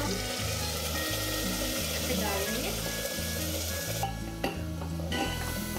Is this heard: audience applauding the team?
no